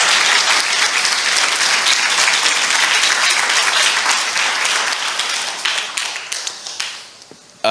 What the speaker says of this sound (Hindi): आइए हम इस वचन के लिए ताली बजाएंगे जोर से।